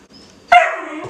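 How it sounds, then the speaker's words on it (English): A puppy gives a single close, loud bark with a short whining tail, standing out alone against a quiet room. "And I apologize for the dog noises."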